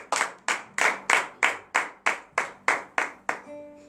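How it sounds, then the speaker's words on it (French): About a dozen loud, crisp claps of acclamation at a morning prayer service in Benin, in a steady, even rhythm, close by, followed by a faint lingering tone. "donnez de vives acclamations à cette parole."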